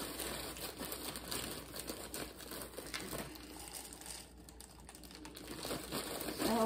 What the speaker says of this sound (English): Freezer bag.